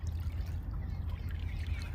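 Irrigation water trickles and gurgles steadily into a wheat field from a motor-driven supply, a close, continuous low wash with no talk.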